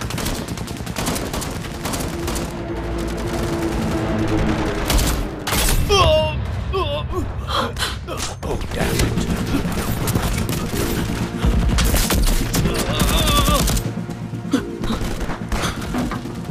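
Sustained bursts of gunfire and booming shots fill a chaotic movie battle scene, with shouted voices cutting in between the rapid volleys.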